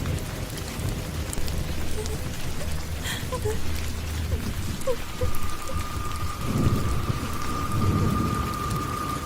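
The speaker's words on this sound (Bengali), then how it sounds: "এদিকে বৃষ্টিও থামছে না" Heavy rain pours steadily during a violent Kalbaishakhi storm, a dense constant hiss with low thunder rumbles and a faint sustained tone emerging midway.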